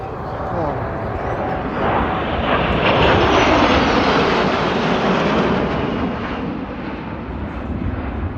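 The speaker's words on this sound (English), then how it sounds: "That wasn't a full afterburner pass." A US Air Force Thunderbirds jet makes a flyby pass at an air show, a broad roar that swells, peaks mid-pass and slowly fades, with spectators chatting over it.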